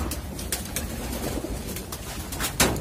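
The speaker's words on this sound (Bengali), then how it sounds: "এটা মাদি আর এটা নর কবুতর" Male and female pigeons cooing in a loft, soft repeated throaty coos close by over a constant low background hum, with a few sharper rustles or flaps, no talk.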